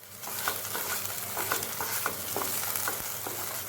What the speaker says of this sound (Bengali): এখন তেলে দেওয়ার পরে আমি আবার মশলাটাকে কষিয়ে নেব